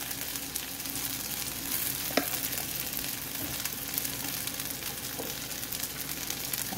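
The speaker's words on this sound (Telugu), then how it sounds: "ఆ తర్వాత టమాటా వేసుకోవాలి. మళ్ళీ కలపాలండి." Tomatoes frying and being stirred in a pan for wheat rava upma, a steady dense sizzle running throughout with occasional scraping clicks of the spoon, close and continuous with no talking.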